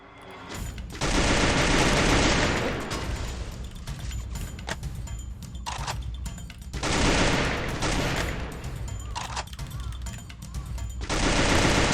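Gunfire in the video game Free Fire comes in three long, loud bursts of rapid automatic shots separated by short gaps of quieter game noise.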